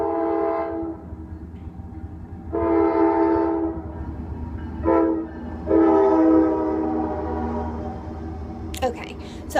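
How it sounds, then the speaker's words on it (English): A passing train sounds its horn in long, loud sustained blasts over a low rolling rumble, with a person talking during the passage. "And hold on, there's a train."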